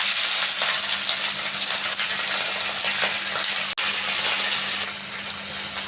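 Drumstick (moringa) leaves frying in hot oil in the same pan used for green chillies, a steady loud sizzle with light stirring scrapes for about six seconds, no talking.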